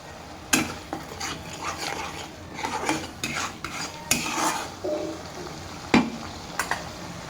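Crab sizzles in a hot pan while a spatula scrapes and clanks against the metal, giving irregular stirring knocks over a steady frying hiss with no talking.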